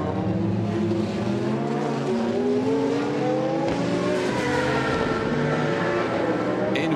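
An MG race car at the Le Mans Classic, its engine loud and close, revving and rising in pitch through the gears as it accelerates, with a continuous roar and no talking.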